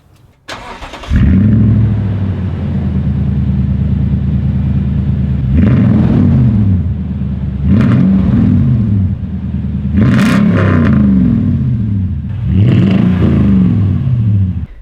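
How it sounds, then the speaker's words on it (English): A Toyota Tundra pickup with an aftermarket exhaust cranks and starts, then idles with a deep, loud exhaust rumble, revved several times in short bursts. "I'll go ahead and fire the truck up so you all can hear it"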